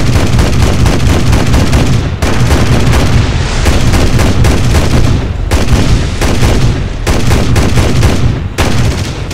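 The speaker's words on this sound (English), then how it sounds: "Just sneaking up behind him and then fire." Aircraft cannons and machine guns firing in the War Thunder flight game, Russian air force planes, loud continuous bursts of rapid fire with brief pauses around the two-, six- and eight-second marks, no talk.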